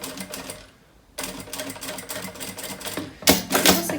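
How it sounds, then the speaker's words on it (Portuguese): Sewing machine stitching a bag's frame and half-ring holder, running in quick rapid bursts separated by a short pause, up close. "eu já vou costurar tanto o suporte da meia argola, quanto a parte de cima aqui da nossa moldura"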